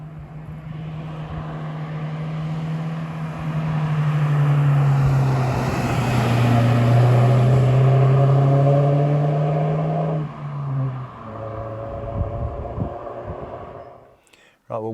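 An original Alfa Romeo 916 GTV with a 2-litre Twin Spark engine revs hard, its drone climbing and falling through a long sustained rev before dropping back, with a voice briefly heard near the end.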